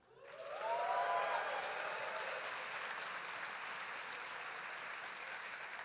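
A live conference audience at a morning talk on AI bursts into loud cheering, whoops and sustained applause that swells within a second and keeps roaring steadily to the end, with no talking over it.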